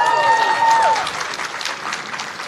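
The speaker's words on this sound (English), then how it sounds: "Now, why was everybody cheering for him?" A crowd cheers and claps for a young man in a purple shirt, a dense wash of applause that is loud at first, then eases slightly and keeps going steadily to the end.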